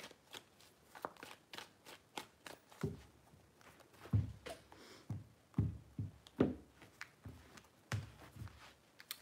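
Tarot cards being shuffled by hand, close up, in a series of crisp riffling and tapping bursts that come in uneven clusters, with no voices.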